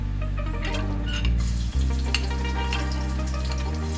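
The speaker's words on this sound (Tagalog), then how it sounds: "so una nang buhaton magisal ta so ahos" Garlic sautéing in oil in a pan for pancit canton guisado, with a steady close sizzle and occasional stirring scrapes throughout, no talking.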